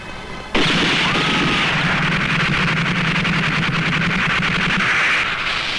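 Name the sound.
pistol gunfire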